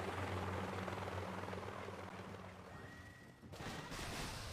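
Heavy chopper helicopter attacking in the game Boom Beach, with loud rotor drone and bursts of gunfire at first, fading slightly before a sharp burst of battle noise near the end.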